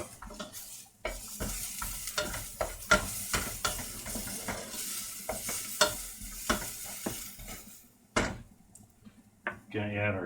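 Garlic frying in oil in a pan for a chickpea stew, steady soft sizzle broken by repeated scraping and stirring clicks of a utensil, with a voice talking over it.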